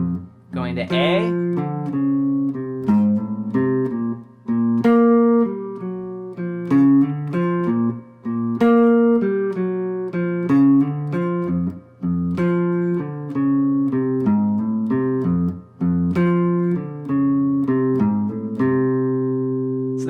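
Guitar playing a blues riff, a steady rhythmic run of plucked notes and bass movement, loud and close, alone without talk for about twenty seconds.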